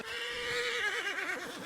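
A horse in a video game gives a loud, wavering whinny that rises and then shakes into quick warbling pulses near the end, heard alone and up close.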